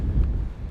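Wind buffets the microphone on a rainy night in Lofoten, a brief low rumbling gust that swells and fades in under a second.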